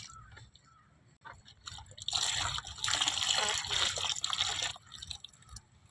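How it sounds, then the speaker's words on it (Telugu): Two kilograms of jaggery mixed by hand with cow urine while making solid jeevamrutham for natural farming: wet squelching and sloshing grows loud in the middle stretch, then eases off. "ఇది మూత్రంతో బాగా కలుపుకోవాలన్నమాట."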